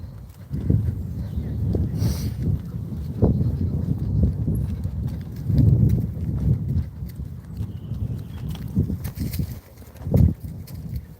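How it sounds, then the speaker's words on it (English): Hooves clip-clop unevenly on the ground as horses walk close by, with soft rustling and a few faint bird calls in the background. "the horses are out in this field instead"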